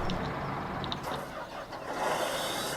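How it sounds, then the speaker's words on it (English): A combine harvester engine in Farming Simulator 17 drones steadily with a mid-range hum and a broad rushing hiss that swells near the end, with no voices. "I love the sound of this combine."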